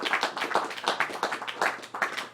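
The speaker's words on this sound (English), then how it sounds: "if we could get some applause for Rak Razam." An audience at a psychedelic emergence talk claps for a guest, a short burst of distinct, fairly close handclaps in an uneven rhythm rather than a dense roar.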